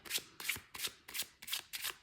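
A deck of cards is shuffled repeatedly in quick riffling bursts, about eight evenly spaced crisp flutters, close and alone with no talk.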